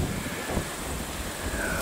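Outdoors on a riverbank, wind buffets the microphone in a steady, rough low rumble with a hissy wash that holds for the whole stretch, with no voices.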